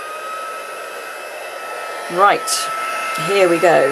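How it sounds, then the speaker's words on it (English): A heat gun blows hot air with a steady whooshing hiss throughout, while a voice speaks briefly over it near the end. "Just going to pop the lid on this and grab my heat gun"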